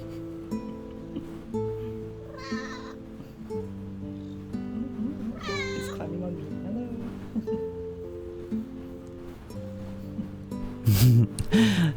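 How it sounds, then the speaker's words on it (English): A cat gives a few short meows, separated by gaps, over a steady tonal background with some rustling and a louder burst of movement near the end. "listen to the meows again"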